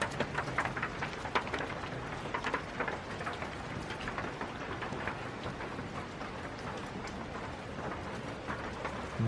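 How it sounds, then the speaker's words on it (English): Heavy rain pours down steadily at an old abandoned mill camp, running off an old building in a dense, continuous close patter of drops that fills the whole stretch without a pause. "You can see how hard it's raining."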